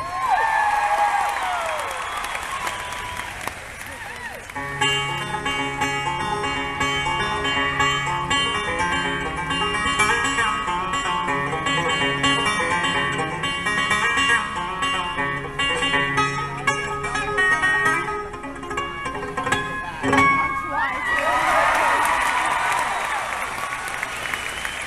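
Concert audience at a country music show applauding and cheering, loud and sustained throughout with crowd noise, while a band plays musical tones in the middle stretch.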